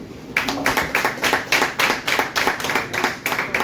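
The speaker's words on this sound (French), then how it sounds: "Un bon applaudissement pour Daniel Blais" A cabaret open-mic crowd claps for a performer in quick, regular, rhythmic claps that start after a brief pause and stay close and lively to the end.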